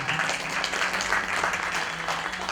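An audience at a Shrimad Bhagwat Katha religious discourse claps together in a sustained, dense patter of many hands, fairly close and loud throughout.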